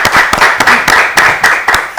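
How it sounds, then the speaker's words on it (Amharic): An audience at a children's quiz competition claps in a brisk, steady burst of applause, close and fairly loud, with no voices. "እስቲ አጨብጭቡላቸው በደንብ አድርጋችሁ"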